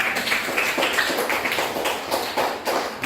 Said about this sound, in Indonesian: tepuk tangan buat anak ibu dulu